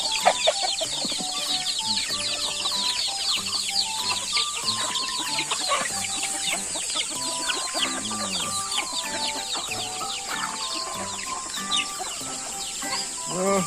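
Hungry backyard chickens clucking busily before feeding, a dense, continuous chorus of overlapping clucks and squawks close by, steady throughout with no pauses.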